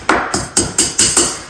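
A hammer taps a plastering bead into position with six sharp, evenly spaced knocks, close and loud, each ringing briefly before the next strike.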